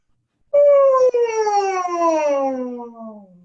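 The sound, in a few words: voice imitating a siren, vocal glide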